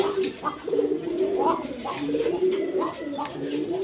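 Several pigeons coo close by in repeated soft, throaty, rolling calls that overlap one another, with some talk in the background.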